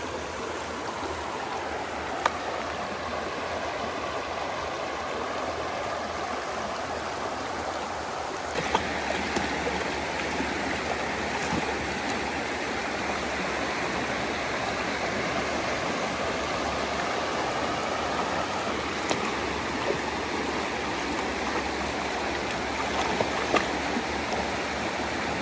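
The Mousam River flows at Rogers Pond Park in Kennebunk, Maine, with a steady broadband rush of moving water close by. The flow gets a little brighter partway through, and no one talks.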